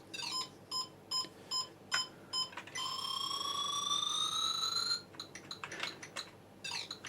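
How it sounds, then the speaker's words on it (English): Built-in beeper of a ZX Spectrum played through a monitor speaker: bursts of rhythmic square-wave beeps, then a long rising multi-tone sweep, then more rapid chirpy beeps, clear and alone. "play the little beeper unit that's built into the Spectrum itself out through the monitor speaker"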